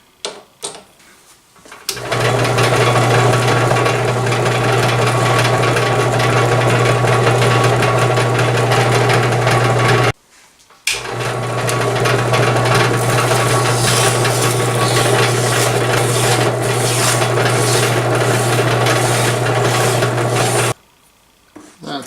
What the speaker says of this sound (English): I'm going to chuck this back up in here and we're going to sand it down to get it nice and smooth